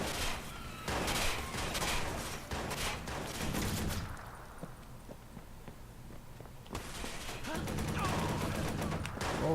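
Bursts of gunfire aimed at the player in the Watch_Dogs video game, loud rapid shots crowding the opening seconds, easing into a quieter stretch, then returning as a dense volley with footsteps and a voice talking over it.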